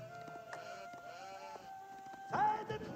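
Sheep in Age of Empires 4 give a short bleat near the end, rising over a soft bed of game music and ambient tones.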